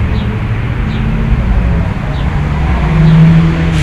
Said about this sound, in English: behind me, cars revving their engines and flying